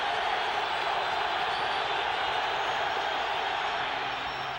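A packed football stadium crowd of 54,000 roars after an Oakland Raiders touchdown against the Denver Broncos, a steady, dense wall of cheering that stays loud and unbroken throughout.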